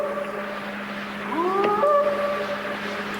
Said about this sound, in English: That sound like a wolf.